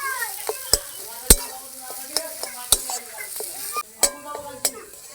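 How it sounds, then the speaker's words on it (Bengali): Potato and bread toast fries in ghee while a spoon stirs it, giving a steady close sizzle broken by sharp scraping clacks against the pan every second or so. "ঘি দেওয়া হয়েছে, বেশিক্ষণ নাড়বো না, নামিয়ে নেবো।"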